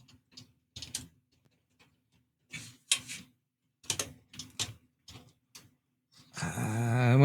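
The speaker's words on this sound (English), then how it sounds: "the screw's not coming out on the screwdriver, so I think it's going in, but it's not tightened yet" Screwdriver driving a small screw into a finger joint of a 1:1 scale Infinity Gauntlet model, heard as scattered close clicks and scrapes separated by quiet gaps, ending in a louder sustained grinding burst.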